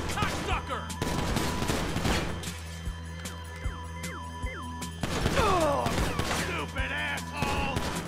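Gunfire during a GTA 5 shootout: sharp, separate shots and short bursts, some near and some further off, with a siren-like tone in the background and a loud cluster of shots late on.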